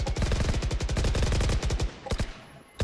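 Rapid automatic gunfire in a video game rattles in quick bursts, loud and close, with a short pause before a few final shots.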